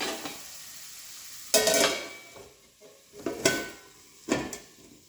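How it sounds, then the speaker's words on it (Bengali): Food frying in a pan until reddish brown, heard as a few separate bursts of stirring and scraping over a low sizzle, each scrape loud and close, with quiet gaps between them. "এবার লাল লাল করে ভেজে নেব।"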